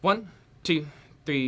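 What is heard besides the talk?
No everyday noise stands out behind the speech.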